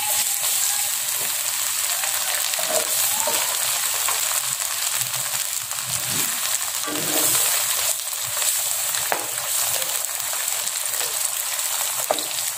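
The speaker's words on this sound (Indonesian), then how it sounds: "kita goreng tempe yang sudah saya potong-potong tadi" Cut tempeh pieces fry in hot oil with a steady, dense sizzle and crackle throughout, the bubbling staying loud and even with no talking.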